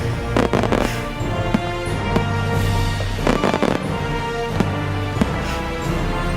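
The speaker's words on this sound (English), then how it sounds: "Oh, and a fireworks compilation." Fireworks compilation played through a smart speaker: a dense, continuous barrage of booms and crackling bursts with repeated louder pops, fairly loud and without talk.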